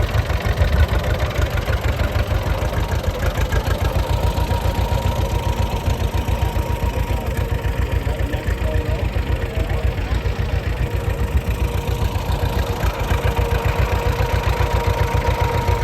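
A hand-cranked 1935 John Deere B tractor runs steadily, its two-cylinder engine giving a loud, rhythmic low popping chug that continues evenly at close range.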